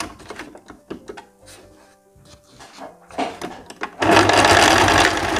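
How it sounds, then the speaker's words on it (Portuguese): An overlock serger finishes the fabric edges of a long winter blazer, its motor whirring in a steady, loud run at the end after light handling clatter and rustling of the fabric. "Pode até passar na overlock pra fazer o acabamento."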